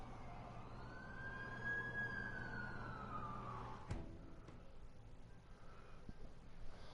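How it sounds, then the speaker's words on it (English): Ambulance siren in a Spider-Man video game scene: a single rising-and-falling wail heard faintly at a distance over low city traffic rumble, followed by a sharp knock. "That's the ambulance I called."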